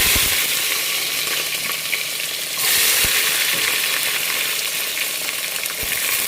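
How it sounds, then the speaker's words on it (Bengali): Onions frying in hot oil and being stirred, a steady close sizzle with occasional scraping knocks of the utensil, rising briefly louder midway. "এটাকে তেলের মধ্যে নেড়ে ছেড়ে ভালো করে ব্রাউন কালার করে নেব"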